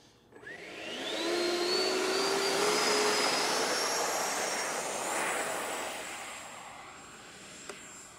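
FMS F/A-18F 70mm EDF RC jet taking off, the electric ducted fan spooling up to a loud, steady whine with rising tones that slowly fade as the model flies away.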